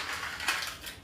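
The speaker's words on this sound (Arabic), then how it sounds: "نفتح الزبادي بتاعتنا" A yogurt container is opened in a home kitchen while making Eid cookies, a short, close, crinkly crunch of plastic and foil with a brief sharper tear midway, quiet and alone.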